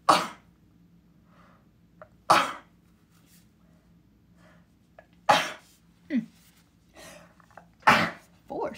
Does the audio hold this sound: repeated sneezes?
yes